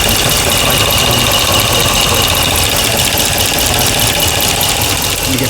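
A rebuilt 2009 Ram 5.7 engine idles with a loud, steady mechanical drone and a fast, even ticking running through it, recorded up close.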